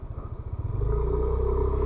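A Yamaha Lexi 155 scooter engine during a tight turning maneuver, a close rhythmic low putter that smooths into a steady droning hum as it pulls away.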